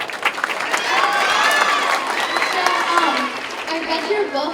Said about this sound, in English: Again, a big round of applause for Jessica.